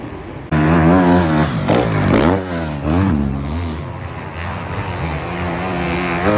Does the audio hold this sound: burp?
no